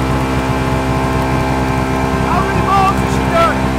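A BMW engine runs rough and choking with a warning light on and a split air intake pipe, heard as a loud, steady drone with uneven pulsing and a voice talking over it.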